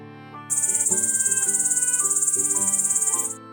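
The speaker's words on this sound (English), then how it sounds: "It's a cricket." A cricket chirps in a rapid, even pulsing trill that starts abruptly and holds steady for about three seconds, over a soft melodic musical backing.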